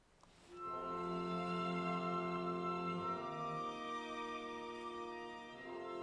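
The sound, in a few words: classical musicians playing a concert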